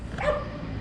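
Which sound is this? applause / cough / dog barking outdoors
dog barking outdoors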